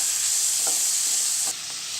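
Chopped ripe tomatoes stirred in a hot pan, a bright steady sizzle with two or three soft spatula scrapes, close and loud, no talk.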